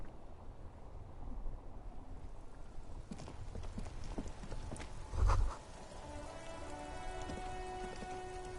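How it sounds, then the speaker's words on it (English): Steady rain patters down continuously in the video game Disco Elysium, with drips and splashes and a brief low rumble midway; a faint tonal hum enters toward the end. "Rain drips from the eaves and floods the gutters, washing the filth away."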